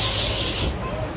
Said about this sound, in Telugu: ఈ అబ్బాయి బెలూన్స్ లో గాలి బలి నింపుతా ఉన్నాడు.